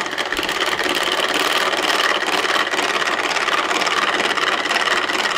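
An electric mixer whips egg whites for sweet waffle batter at low speed, a steady whirring motor hum with beaters churning continuously and fairly loud, no voices.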